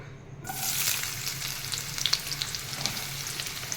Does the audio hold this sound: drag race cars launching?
no